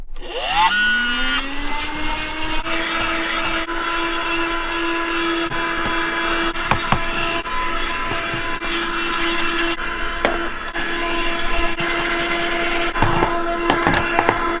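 A small 12-volt, 120-watt car vacuum cleaner spins up with a rising whine, then holds a steady, close, droning hum for many seconds, with occasional faint clicks and knocks.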